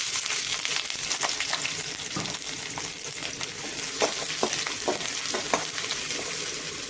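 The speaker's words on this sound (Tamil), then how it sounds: "எண்ணெயிலே நல்லா 1 நிமிஷத்துக்கு நல்லா வதக்கிக்கோங்க" Onion and capsicum sizzle steadily in hot oil after garlic has gone in, a continuous dense frying hiss with scattered sharper crackles and soft stirring scrapes, close and even throughout with no talking.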